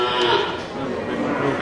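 Cattle at a livestock market give a low moo amid a steady crowd hubbub of people talking nearby.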